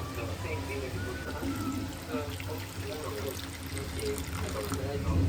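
Milk is poured into a butter and flour roux in a pan for white sauce pasta, producing a steady close liquid pour and sizzle that runs continuously throughout.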